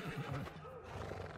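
A horse whinnies briefly in the video game Trek to Yomi, a short wavering neigh over a steady bed of game background noise.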